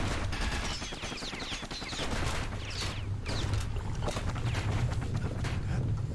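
Gunfire in the action game Bastion, a dense rattle of rapid shots and crackles running steadily under a busy, loud game soundscape.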